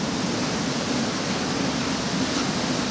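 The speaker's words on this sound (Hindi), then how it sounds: "ये देखो गाइस ये कैसे झरना यहाँ से नीचे गिर रहा है" Waterfall pouring down inside Robber's Cave in Dehradun, a steady, dense rushing roar that holds evenly throughout with no voices over it.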